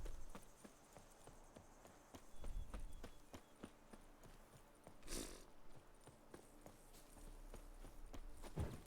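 Horse hooves clopping in a video game, a steady run of light clip-clop steps with a brief louder burst midway, playing alone without talk.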